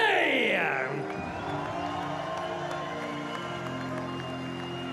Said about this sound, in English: un tonnerre d'applaudissements pour l'équipe des États-Unis d'Amérique